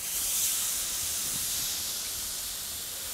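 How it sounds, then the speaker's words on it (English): A steak sears in a hot pan right after being turned over, giving a steady, close, broadband sizzling hiss that stays level throughout with no talking. "I'm going to go ahead and turn the steak over now"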